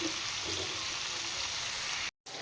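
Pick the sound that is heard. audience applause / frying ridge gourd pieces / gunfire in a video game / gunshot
frying ridge gourd pieces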